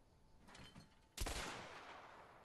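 Gunfire in A Way Out: a faint muffled burst followed by a single sharp, close shot that leaves a lingering noisy decay, no talking.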